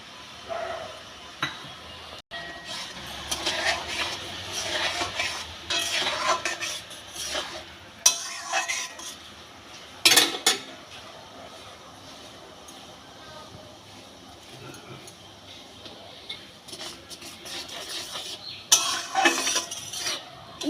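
A small amount of grated coconut being stirred into sugar and water in a pan for rice barfi, intermittent scraping and clinking of a spoon against the pan over a faint simmer, no talk.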